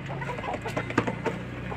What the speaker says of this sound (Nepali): तपाईहरुलाई लोकल कुखुरा चाहिन्छ भन्नु है मेरोमा छ है